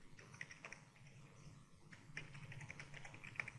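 Quiet computer keyboard typing while a command is entered in a software console: soft, irregular key taps run steadily with a few sharper clicks, close and faint, with no talk.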